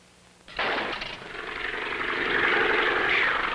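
A plane's engine in a 1954 stunt-flying film kicks in suddenly and roars on steadily, loud and close, swelling slightly as it runs with no voices over it.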